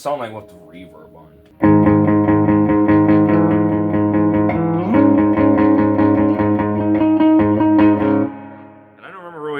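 Electric guitar played through a pawn-shop amplifier with reverb engaged, ringing sustained chords and notes loud and close for most of the stretch, opening with softer playing and trailing off at the end.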